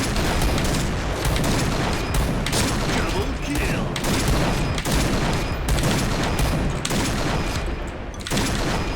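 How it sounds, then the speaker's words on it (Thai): Rapid gunfire in the PUBG video game, repeated shots crackling in quick bursts across the whole stretch, loud and dense, with faint game background noise between volleys. "โอ้โหยิงมาหลายนัดอยู่เหมือนกันนะเออ"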